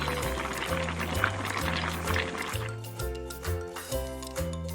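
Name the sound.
boiling liquid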